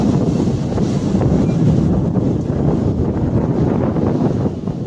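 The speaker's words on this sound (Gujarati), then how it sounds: "આ મોજા ભાંગે છે અહીંયા." Sea waves break on a shore near a crocodile rock islet, a loud, rumbling wash of surf with wind buffeting the microphone throughout.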